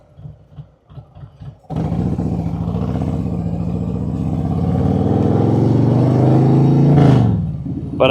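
Motorcycle fitted with a Klock Werks windshield riding at about 30 mph, the engine droning loud and steady close by after a few soft knocks, with wind noise building and a brief rise near the end.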